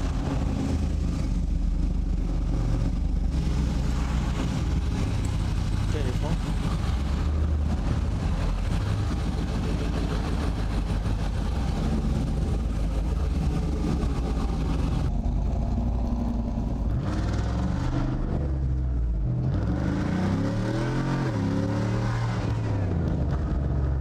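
A one-of-a-kind Jeep Apocalypse drives with its engine roaring continuously, loud and close, rising and falling through gear changes and accelerating hard toward the end.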